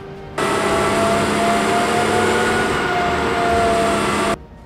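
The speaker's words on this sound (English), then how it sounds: "today I'm out here recording tanks" A heavy tank engine runs at a steady, loud drone with a high whine on top, starting abruptly and cutting off just as suddenly.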